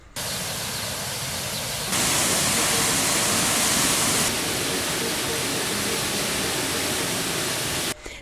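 Seziwa Falls on the small River Seziwa in Uganda roars as a loud, unbroken wash of falling water, steady from start to finish with a brief surge in intensity partway through.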